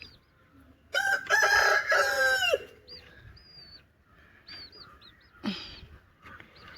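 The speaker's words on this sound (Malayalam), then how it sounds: "ഇതിനകത്ത് കോഴിയും കുഞ്ഞുങ്ങളുണ്ട്." Rooster crows loudly nearby inside a backyard coop at a Kerala home, followed by scattered soft clucks and peeps from hens and chicks, with no talking.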